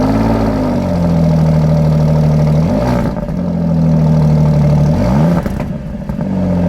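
A car engine idles, heard close up at the exhaust pipe: a loud, steady low rumble with slight rises in pitch, like light revs, twice during the run.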